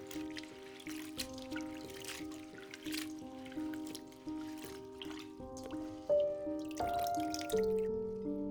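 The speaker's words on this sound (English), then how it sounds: "A quick rinse for Thai basil." Thai basil leaves rinsed under running tap water, a soft trickling and splashing that sits fairly quiet beneath steady background music.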